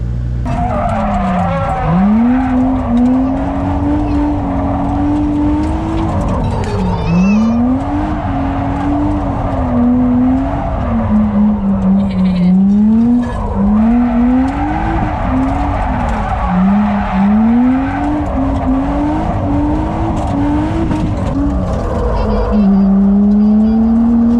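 A car drifts with loud, continuous tire squeal and screeching skids that rise and fall in repeated sweeps over a steady engine note for the whole stretch.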